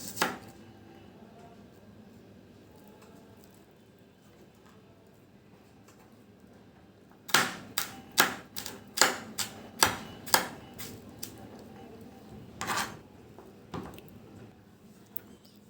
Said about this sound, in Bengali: এভাবে কিন্তু পেঁয়াজ কাটতে হবে।